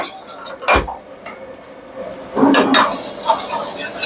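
Onions tossed into fresh oil in a wok at a street biryani stall, with metal clanks of the pan and utensils, a brief sizzling burst, and scraping stirs.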